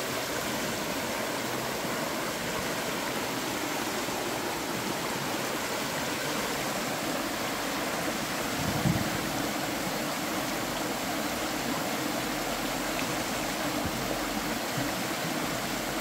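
Village river water flowing in Jamaica, a steady dense rushing wash with no break, moderately loud and close, with no voices over it.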